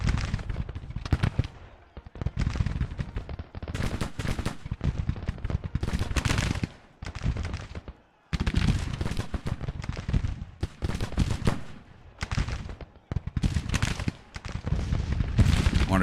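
Civil War battle gunfire in the strategy game Grand Tactician crackles in dense, irregular volleys of musketry and popping shots, nearly continuous with a few short gaps.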